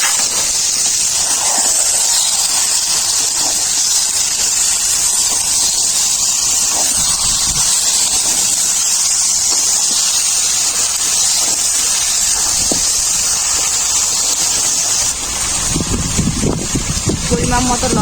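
Mutton pieces dropped into a pot of spiced oil sizzle with a steady, loud, broad hiss that runs throughout, and a voice speaks over it.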